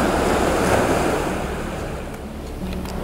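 Ocean waves break and wash ashore at sunrise, a loud, continuous roar of surf with a steady hiss that eases slightly toward the end, with no voices.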